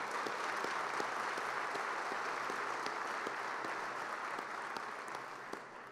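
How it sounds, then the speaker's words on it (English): An audience at a women-in-aviation event in Oklahoma gives a steady round of applause for the organizers, dense clapping holding evenly for several seconds before easing slightly. "If you would give one more round of applause to all the folks who put this event on."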